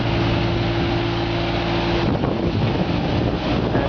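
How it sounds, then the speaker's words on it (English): A truck-mounted Moffett forklift works as a conventional forklift, its engine giving a steady, loud droning hum with tonal whine that drops away midway, leaving rumbling mechanical noise and wind buffeting. "Here we have it working as a conventional forklift."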